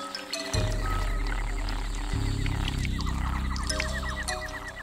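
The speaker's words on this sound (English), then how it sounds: "We stay at a safe distance from the bright red strawberry poison dart frog, a tree-climbing frog that can inject toxic substances into the skin." Strawberry poison dart frog croaking in the Costa Rican jungle near Tortuguero, a steady loud droning buzz that starts abruptly and holds throughout, with rapid repeated chirps and other jungle calls layered on top.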